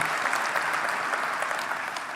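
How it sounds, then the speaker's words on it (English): Audience at a Microsoft Tech Summit keynote in Copenhagen claps in a dense, sustained burst of applause, loud and even throughout, with no voices over it. "let's give all of us a hand for that"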